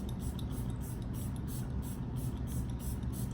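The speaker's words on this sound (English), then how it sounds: "I should have started my setting spray before it, but oh well." Makeup setting spray hisses from a pump bottle in a run of short, closely spaced bursts, each a crisp airy spritz, close to the mic, over a low background hum and with no talking.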